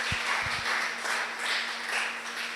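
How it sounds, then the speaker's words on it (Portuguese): A church congregation at a Quadrangular worship service claps in a steady, dense wash of applause for Jesus, filling the room at moderate loudness with no voices over it. "Dá uma salva de palmas bem forte para Jesus"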